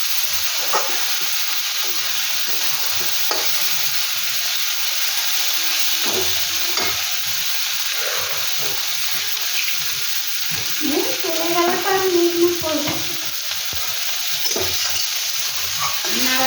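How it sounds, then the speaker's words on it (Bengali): Bitter gourd chochari frying in a pan with turmeric, stirred with a spatula: steady close sizzle with repeated scraping and stirring knocks, a brief watery trickle midway. "নাড়াচাড়া দিচ্ছি"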